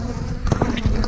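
Honey bees buzz at a strong farm hive, a dense continuous drone with a few individual bees swelling louder as they pass close.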